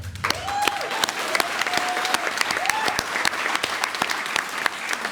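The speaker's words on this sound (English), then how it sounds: "Let's all give Brad actually a round of applause." Wedding guests applaud Brad, the groom, with dense, steady clapping from a crowd that fills the room, with a few brief whoops over the top.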